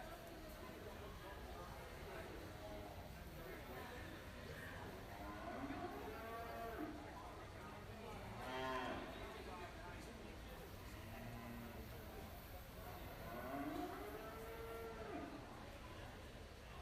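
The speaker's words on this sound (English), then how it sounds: "Coming into the ring now is our final class of heavyweight steers." Heavyweight steers moo repeatedly as they enter a livestock show ring, several drawn-out calls rising over a steady crowd and announcer hubbub, moderately distant.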